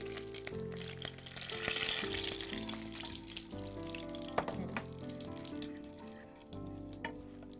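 Curry leaves crackle and sizzle in hot oil, a loud steady frying hiss with sharp pops, while music plays in the background.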